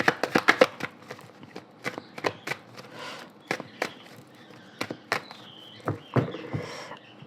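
Tarot cards being cut into three piles, a run of sharp, close card slaps and taps in an irregular rhythm with brief shuffling rustles between them and no voices.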